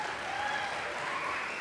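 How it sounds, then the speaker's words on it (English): Steady, fairly distant crowd applause at a hockey prospect and anniversary preview event, an even wash of clapping throughout. "How about another big round of applause?"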